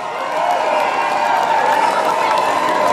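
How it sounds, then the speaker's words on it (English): Crowd applause and cheering at Goatfest 2018 following a live acoustic guitar duo's cover of a song, a dense, loud wash of clapping sustained throughout with a steady roar of crowd noise. "Keep that applause going."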